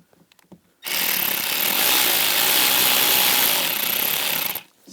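A power tool drives screws into the door trim cover of a 2010-2017 Chevrolet Equinox during a door actuator replacement: a few faint clicks, then one loud, sustained whirring run of about four seconds that cuts off sharply.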